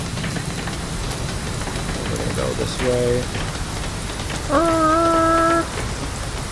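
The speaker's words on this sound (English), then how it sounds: "It is really loud rain, isn't it?" Heavy rain in the X-Plane flight simulator, heard from a Zibo 737 taxiing, forms a steady loud hiss throughout, with a short tonal chime and a longer electronic tone laid over it and someone speaking briefly.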